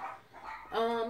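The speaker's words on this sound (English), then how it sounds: "excuse the dogs if you can hear them in the background, they're having a fit" Dogs bark and yip in short bursts from another room, fairly faint at first and then louder and sharper toward the end, behind an indoor craft session.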